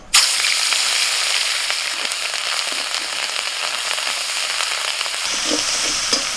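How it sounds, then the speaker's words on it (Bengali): Onion paste is added to oil left in a pan after frying pomfret and sizzles loudly and continuously. A few soft stirring sounds come near the end, with no speech. "মাছ ভাজার পর কড়াই যে তেল আছে ওই তেলের মধ্যে আমি প্রথমে পেঁয়াজ বাটাটা দিয়ে দিচ্ছি।"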